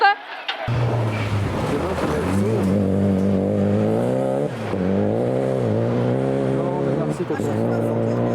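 A Renault Clio rally car accelerating hard on a gravel rally stage, its engine rising and falling in pitch through gear changes, loud and close throughout, with voices faintly present.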